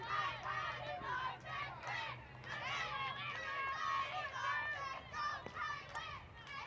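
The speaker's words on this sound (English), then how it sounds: "A lot of chatter coming out of their dugout." Chatter, shouts and cheering from a high school softball team's dugout, a steady crowd of young voices calling out together at moderate distance, with a low hum running underneath.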